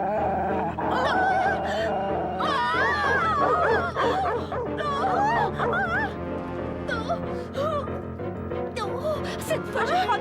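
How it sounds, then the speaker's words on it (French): A fierce dog in a French cartoon growls and barks in wavering, snarling bursts, loud and close, with a voice actor likely performing the animal, mixed with character voices and background music. "chien féroce"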